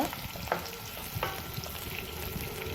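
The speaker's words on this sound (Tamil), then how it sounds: "நல்ல ஃப்ரை ஆகட்டும் வெங்காயம் எங்களுக்கு வதங்கணும்" Chopped onions fry and sizzle steadily in hot oil for a Sri Lankan style egg sothi, with a dense continuous crackle and a few sharper pops and stirring clicks, close and alone.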